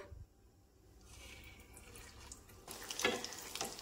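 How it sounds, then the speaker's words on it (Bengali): A paratha laid into oil heated over a medium flame in a pan on a stove, giving a soft sizzle that swells into a louder, crackling fry toward the end, with no talk. "এখন আমি গরম তেলের উপর পরোটাটা দিয়ে দেব।"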